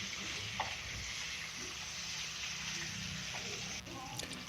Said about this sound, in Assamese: পিঁয়াজটো আমি ভালকৈ এতিয়া আমি ভাজি লওঁ।